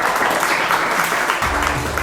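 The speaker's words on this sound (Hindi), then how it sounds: "तालियां हो जाए" An audience at a school quiz show gives dense, sustained applause for a contestant, with a faint voice entering near the end.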